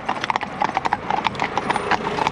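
Horse hooves clip-clop in a quick, even trot over low training poles, the hoofbeats close and distinct, with a brief whinny.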